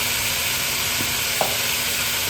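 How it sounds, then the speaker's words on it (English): Chopped onion hits a hot frying pan and sizzles in a steady close hiss, with a couple of soft stirring taps and no talk. "I'm going to add just a cup of chopped onion"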